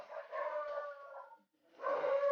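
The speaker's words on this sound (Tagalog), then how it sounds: "Nagalit yung aso." A dog gives two long, drawn-out howling barks close by, separated by a brief silence.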